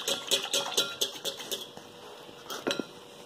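A utensil mixes oil into eggless atta cake batter in a bowl, a quick rhythmic run of clinking taps against the bowl, then a pause and a couple more clinks.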